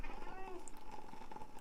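A kitten lets out a thin, drawn-out meow, near and fairly quiet, over a steady background hum.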